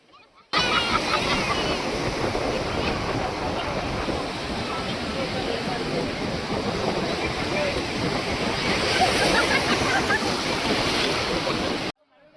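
Sea waves at Tiruchendur beach roll and wash in a continuous loud roar of surf, mixed with wind buffeting the microphone, with no talk heard.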